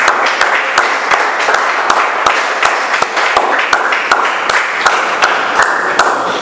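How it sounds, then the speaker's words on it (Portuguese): Church congregation applauding at the close of a prayer: steady, dense clapping with sharp individual claps standing out, sustained throughout at fairly even loudness. "Aplauda o Senhor, amém."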